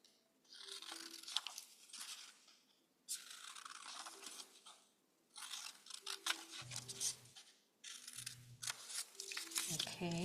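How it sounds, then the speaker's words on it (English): Scissors snip through paper to cut out a note for a Father's Day baseball field craft, with bursts of crisp cutting strokes in several runs; a voice speaks briefly in between. "follow the line, cut out the note."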